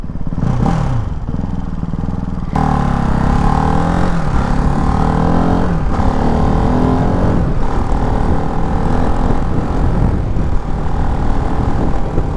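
Ducati Hypermotard 698 Mono RVE single-cylinder engine running with no exhaust fitted, a loud raw rasp that jumps sharply in revs, pulls and pops as it rides along, with no talking.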